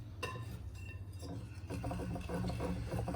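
A utensil scrapes and stirs through sieved dry ingredients in a bowl for a Sicilian-style whole orange cake, soft rubbing strokes with light clinks that get busier and more rhythmic toward the end, close and quiet, with no talk.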